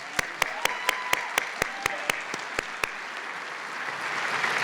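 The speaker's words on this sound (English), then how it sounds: "Let's give them a round of applause" Applause from a crowd at a 2023 graduation ceremony for an inaugural class of young women, with a burst of loud, regular claps up front that thins and fades into a softer room murmur.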